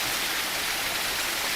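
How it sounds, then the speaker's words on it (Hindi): A waterfall near a hermitage kund runs strongly after morning rain, giving a steady, dense rushing roar that fills the whole moment without pause, close by and with no voices. "आज झरना बहुत चल रहा है।"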